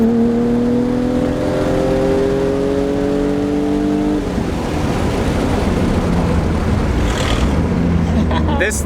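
A BMW E36 M3 with very short gearing accelerates hard, engine revving up in a rising whine, then a quick gear change and continued loud pulling, heard from inside the car.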